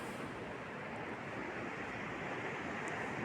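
Surf washes steadily onto Borth Beach in Wales, a faint, continuous broadband roar with no distinct breaks and no voices.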